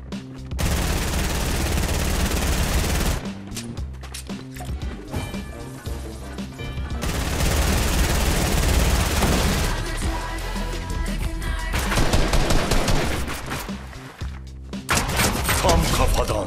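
Dense gunfire in the video game Fortnite, played on a Zula-style ship map, with rapid bursts and crashing impacts layered over game music, pausing briefly before resuming; players talk throughout.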